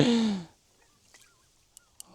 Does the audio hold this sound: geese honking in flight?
yes